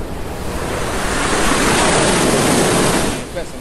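Ocean surf crashes continuously onto an eroding beach where the sea is advancing, a loud, dense roar of breaking waves with wind buffeting the microphone, easing slightly at the end.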